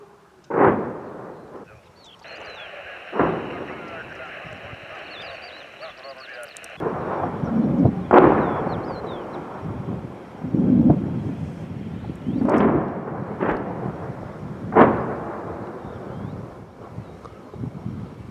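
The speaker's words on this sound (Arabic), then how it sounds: "قصف صاروخي من الحواجز تبع ميليشيات النظام على مدينة كفر زيتا بريف حماة الشمالي" Rocket and artillery shelling from regime checkpoints on Kafr Zita in rural northern Hama, heard as several heavy booms rolling in at irregular intervals over steady wind noise, some distant and some fairly loud.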